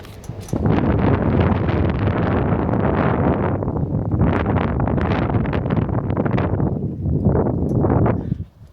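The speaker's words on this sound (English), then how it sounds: "It's getting windy here. Getting a little windy." Strong wind buffets the microphone in loud, continuous gusts for several seconds, roaring and rumbling with no voices.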